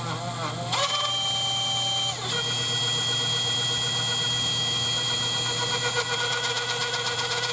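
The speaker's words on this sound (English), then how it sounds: "Drill some holes." A power drill whirs steadily at close range while drilling holes in a 1958 double-cut Junior guitar replica, a continuous high motor whine with a brief pause partway through before it resumes.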